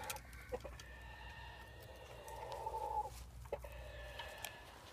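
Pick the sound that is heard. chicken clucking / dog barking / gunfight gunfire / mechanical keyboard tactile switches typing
chicken clucking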